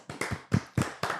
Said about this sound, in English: A couple round of applauses I want to give.